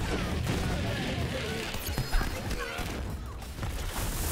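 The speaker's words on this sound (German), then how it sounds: "Schieß einfach nur rein. Da wo irgendwas ist, da schieße ich hin." Rapid bursts of gunfire and crashing impacts in a Borderlands 3 fight, busy and loud, with a voice talking over the action.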